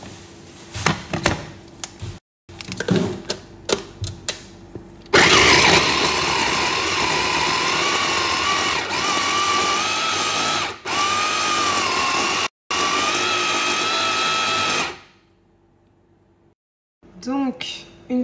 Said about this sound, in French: on vient mixer le tout